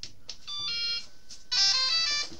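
A Losi Promoto RTR RC motorcycle transmitter powers on with a bright electronic beep melody: a short chirp sequence, a pause, then a louder second run of tones, fairly close.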